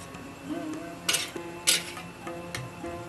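Ladle clinking and scraping against a metal pot while sugar-free chocolate powder is mixed in at a Kolkata sweet shop, several sharp bright knocks over a low steady kitchen hum, close and moderately loud.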